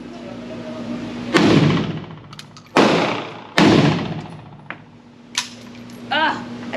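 Shots from a Pioneer Arms Hellpup 7.62x39 pistol: three loud, sharp reports about a second apart, each with a ringing decay, followed by quieter clinks and thuds.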